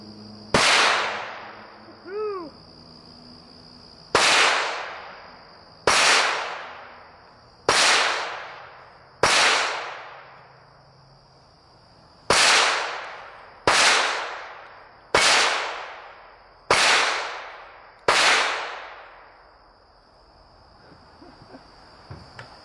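Ten sharp rifle gunshots fired at clay and steel targets outdoors, each a loud crack with a long ringing decay, spaced irregularly about one to two seconds apart, with a steady high whine in the background throughout.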